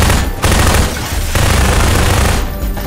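Submachine gun fire in the video game Half-Life 2, loud dense bursts of rapid shots that run almost continuously with brief gaps, close and aggressive with no voices.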